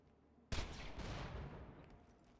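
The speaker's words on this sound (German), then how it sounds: "Bei der Herald verbrauche ich immer 6 Schuss mit einmal abdrücken." A burst of rapid gunfire from the Herald gun in Borderlands 2, one trigger pull unleashing a sharp volley of closely spaced shots that rings out loud and then decays over about two seconds.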